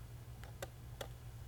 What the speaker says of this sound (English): each of these leaf shutter lenses have a somewhat unique sound